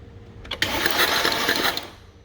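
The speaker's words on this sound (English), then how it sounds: "Derek, crank 1 time, please" A 2014 Mercedes E63 4matic engine gives one short starter crank, a brief whirring burst of about a second, fairly close in a quiet workshop.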